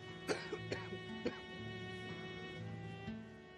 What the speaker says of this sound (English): When somebody has a cough,